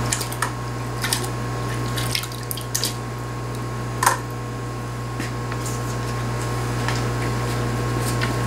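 Water runs and drips while aluminum parts are rinsed after a sulfuric acid anodizing bath, a steady wash with scattered light drips and taps, set over a constant electrical hum.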